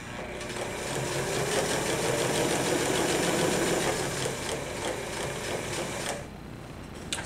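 A sewing machine runs steadily, redoing stitches on a pair of pants, its rapid mechanical whir and needle clatter sustained close by for several seconds before easing off at the end.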